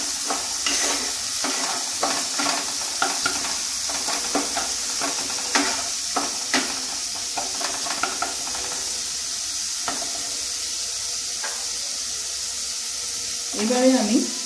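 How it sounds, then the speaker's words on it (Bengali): Spice paste for a parwal (pointed gourd) malai curry stirred and fried in a pan, a steady soft sizzle with repeated scraping spoon strokes throughout, close by, with a brief clatter near the end. "মশলাটা ভালো করে একটু কষাতে হবে"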